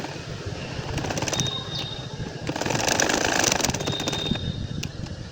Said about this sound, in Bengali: আমি কিন্তু সেলাই করে যাচ্ছি